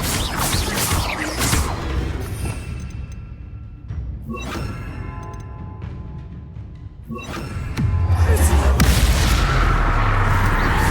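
Bombarda spell explosions in the video game Hogwarts Legacy: several heavy booms with whooshing blasts, each followed by rumbling debris over steady game ambience, with the last blast loudest.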